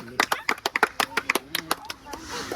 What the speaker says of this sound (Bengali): সবাই একটা তালি